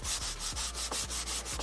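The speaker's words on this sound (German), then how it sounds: "Und das tun wir, indem wir halt mit dem relativ feinen Schleifpapier drüber" Fine sandpaper rubs over a smooth leather steering wheel in quick, even back-and-forth strokes, about eight close, scratchy passes in a steady rhythm with no talking.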